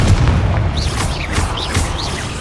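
Spell blasts from Bombarda and Confringo in the Hogwarts Legacy video game, heard as dense, continuous booming explosions with rumbling low end and several sharp crackling bursts layered over each other, loud and close.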